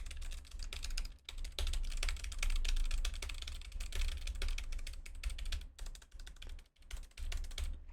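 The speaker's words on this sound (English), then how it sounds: "show you what it sounds like when I type on a keyboard" Rapid, continuous clicking of a mechanical keyboard being typed on, recorded through a Tonor ORCA001 USB microphone, with brief pauses between runs of keystrokes.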